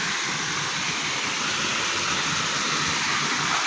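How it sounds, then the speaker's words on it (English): A small mini waterfall rushes steadily, its broad continuous splashing roar close and even from start to finish with no voices. "This is the view from the waterfall."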